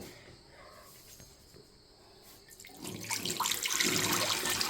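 A liquid chemical is poured and flows like water, starting after a quiet stretch with faint background chirps, then building into a close, splashing pour that grows louder through the final seconds.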